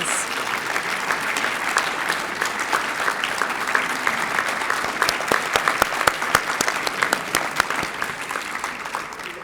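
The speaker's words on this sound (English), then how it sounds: "Please join me in another round of applause for these most deserving 2008 Hall of Fame inductees." Sustained audience applause at a Hall of Fame induction ceremony for distinguished high school alumni, dense and steady clapping from a large crowd throughout with a few sharper claps standing out.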